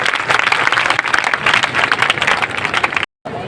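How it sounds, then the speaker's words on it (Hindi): Students at K.R.P.G. College give a loud, sustained round of dense crowd applause during a free tablet distribution ceremony, which cuts off abruptly near the end. "सभी बच्चे विशेष तालियों के साथ इस स्वागत को आगे बढ़ाएं।"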